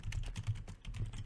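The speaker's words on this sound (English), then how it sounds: "Are you typing?" Rapid keystrokes on a computer keyboard, a quick uneven run of close clicks with a brief pause midway, and no voices.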